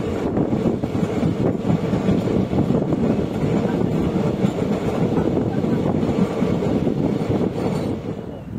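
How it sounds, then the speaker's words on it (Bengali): A Gorakhpur–Kamakhya passenger train passing on a foggy December morning in North Bengal, heard as a loud, continuous rumbling roar that stays steady throughout. "দেখা হলো গোরখপুর কামাখ্যা ট্রেনের সাথে।"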